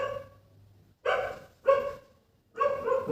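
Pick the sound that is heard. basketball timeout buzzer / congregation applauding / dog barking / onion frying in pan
dog barking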